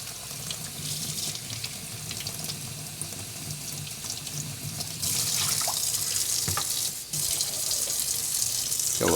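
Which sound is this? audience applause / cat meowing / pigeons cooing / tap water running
tap water running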